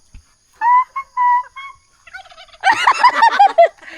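A turkey gobbles loudly and close by, first a few short separate calls, then a long rattling burst of gobbling, outdoors with no talking.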